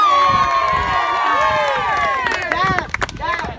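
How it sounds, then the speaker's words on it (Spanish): Children and adults at a youth soccer trophy ceremony for an under-13 Fulham team cheer and shout loudly, with excited voices rising into a burst of yelling near the end. "Un aplauso para José."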